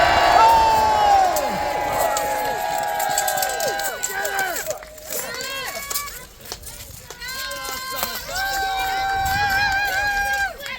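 A crowd at a medieval pageant cheers and shouts loudly in a big continuous wave, with children's high voices and whoops rising over the roar, briefly dipping in the middle before swelling again.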